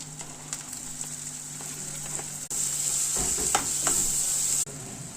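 Onions with ginger, curry leaves and garlic sizzle and fry steadily in a hot pan for fish curry, the hiss growing louder partway through, with faint stirring clicks.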